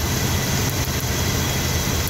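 A car engine with an intermittent cylinder misfire idles and shakes, a loud, dense, low rumble that runs continuously, with a slight dip partway through and no voices.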